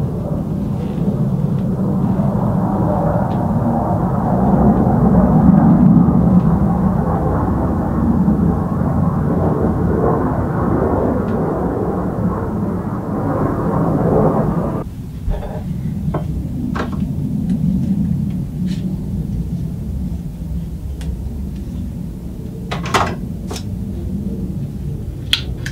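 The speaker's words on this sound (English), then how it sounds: "There's a really loud jet going over." A loud jet aircraft passes overhead, a heavy low roar that stays strong for about fifteen seconds and then eases into a fainter rumble, with a few scattered knocks and clicks near the end.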